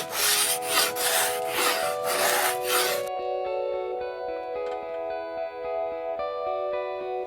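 A rasp works wood off the limb of a Meare Heath-style primitive flatbow in about three seconds of quick, rhythmic scraping strokes, then stops and leaves steady sustained tones.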